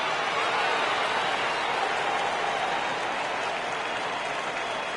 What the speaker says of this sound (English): This crowd, not a huge one strictly in terms of numbers, has definitely had plenty to cheer about.